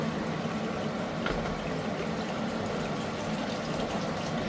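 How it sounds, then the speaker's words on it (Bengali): Water pours steadily into a pressure cooker for a curry, a continuous close splashing wash that holds an even level from start to finish with no voices. "প্রেসার কুকারে দিয়ে আমি এতে পরিমাণ মতো জল দিয়ে দেব।"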